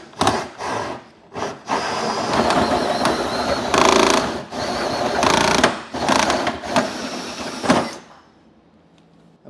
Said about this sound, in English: So we'll get this drilled out.